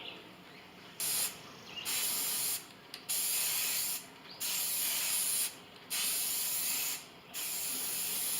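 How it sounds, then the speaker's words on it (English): Red spray paint hisses from a can onto a burlap table runner in five or six loud, sustained bursts separated by short pauses, close and alone. "So now I'm just going to go ahead with my red spray paint and spray paint the rest of my table runner."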